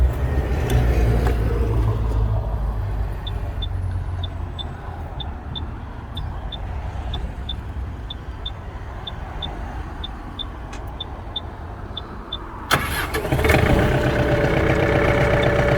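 A Mitsubishi MT24D Japanese mini tractor sits idling close by in winter. Its diesel engine gives a steady, even rumble with a regular high ticking beeping over it, and a brief louder clatter comes near the end.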